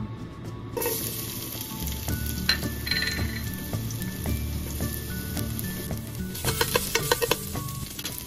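Garlic fries in hot cooking oil in a pot, a bright close sizzle with spatters and crackles, plus several stirring knocks and clinks against the pot; no one speaks.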